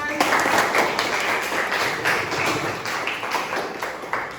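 A classroom group applauds after a student team finishes a presentation during a teaching practice session: dense, steady clapping runs throughout at moderate loudness, with voices mixed in.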